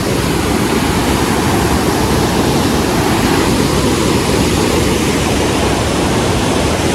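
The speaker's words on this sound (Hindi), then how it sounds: "क्योंकि पानी का शोर इतना तेज है।" Loud, steady rushing of river water at Turtuk village, Ladakh, roars continuously and close by, a dense wall of noise with no pauses and no voices.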